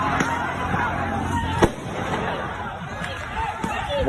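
Firecrackers bang during Eid al-Fitr celebrations in Indonesia, with one sharp nearby crack amid a steady wash of crowd noise and distant pops.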